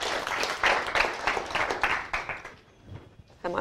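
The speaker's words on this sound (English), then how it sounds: "let's give her a round of applause, Janet" Audience applause welcoming speaker Janet Kane to a talk, a crowd of hands clapping in uneven bursts that fade away toward the end, followed by a short final clap.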